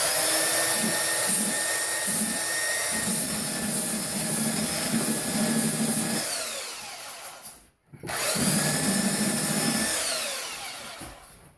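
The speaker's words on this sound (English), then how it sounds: "I'm just gonna belt that smooth." A belt sander smooths the edge of a curved door opening cut in wood, grinding loudly and steadily with a shifting pitch, pausing briefly midway before starting up again and running on.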